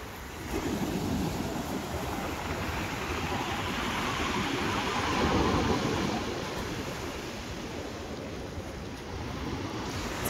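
Sea waves roll and break on a shore in a continuous, broad wash of surf mixed with wind, building and easing gently over several seconds, heard close with no clear talk.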